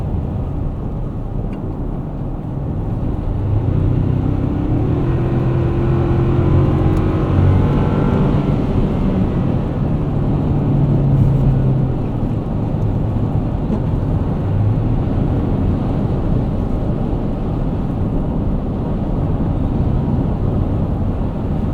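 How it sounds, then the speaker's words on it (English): Toyota Tacoma TRD Off Road pickup with a turbo four-cylinder and eight-speed automatic cruising through desert, its steady engine drone and road rumble continuous and loud throughout, with a brief rising rev midway. "This turbo 4-cylinder does it all. And this 8-speed automatic is super refined."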